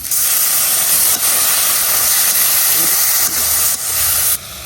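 Loud, steady hiss of steam bursting as a little water is added to spiced meat in a hot pan, broadband and continuous, with a few brief dips in intensity.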